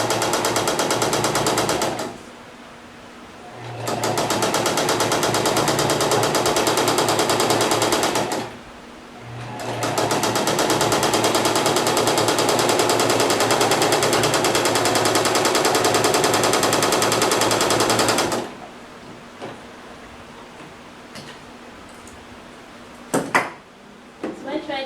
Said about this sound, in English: So you're gonna stitch it like this.